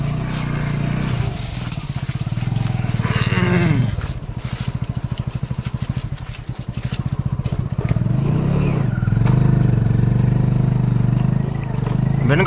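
Motorcycle riding along a rural road past farmland villages in Madhya Pradesh, the engine a steady close drone with shifting pitch as it rolls on, wind and rattle mixed in throughout.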